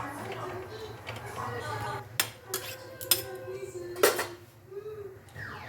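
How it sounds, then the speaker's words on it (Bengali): A lid goes onto a pot of drumstick, potato and pumpkin curry with a few sharp metallic clinks and knocks, close and fairly loud over a low steady kitchen hum. "আবার তরকারিটা ঢাকা দিয়ে দিলাম"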